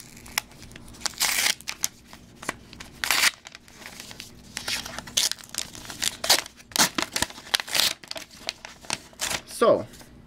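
A small paper package of Pokemon cards is handled and opened, giving bursts of crinkling, rustling and tearing paper separated by quieter pauses, close to the ear, with a brief voice near the end.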